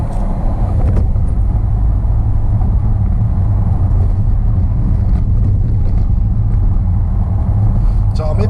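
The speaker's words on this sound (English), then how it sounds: "I wonder if it's my clutch. But that sounds really bad." A car on a road trip, with a faulty clutch suspected, drones and rumbles loudly inside the cabin with a low, rough, continuous noise and wind buffeting, steady throughout.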